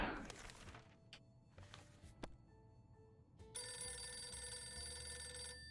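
A telephone rings in the video game 60 Seconds! Reatomized, a steady electronic bell tone ringing in its last two seconds after a few soft thunks and clicks, with no talk.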